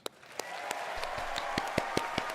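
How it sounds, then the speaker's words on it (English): Clapping at a BlizzCon 2023 watch party: sharp, unevenly spaced hand claps stand out over a steady wash of crowd applause. "This is me clapping. I'm clapping here."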